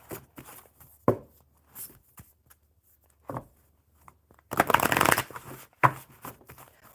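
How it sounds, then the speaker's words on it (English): Playing cards are shuffled at close range in a few separate bursts: short riffles and taps, then one longer, dense flutter of cards snapping together, with quiet pauses between. "One more good shuffle."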